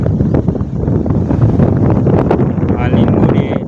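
Strong wind buffets the microphone outdoors on a farm plot among lemon and pomegranate trees, a steady loud rumble lasting the whole stretch with gusty swells and no pauses.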